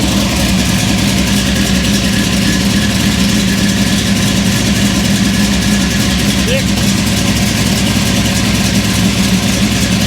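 A 1964 Chevy II gasser engine with a tunnel ram intake and dual four-barrel carburetors idles steadily and loudly throughout, a constant low rumble with a slight rev near the middle and people talking over it.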